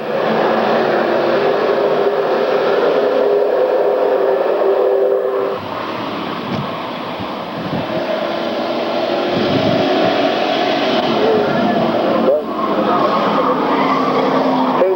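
Race cars at an RGS event in September 1994 roar out of turn 4 and down the front stretch, a loud continuous engine and tire din that swells and shifts as the pack passes, with no talk over it.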